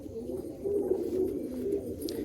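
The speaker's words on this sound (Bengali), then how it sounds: "দেখছেন কত ছটপট করছে পায়রাগুলো" Restless pigeons, for sale near a rail station, give a steady low cooing murmur with soft rustles, moderately close and continuous, with no talk over it.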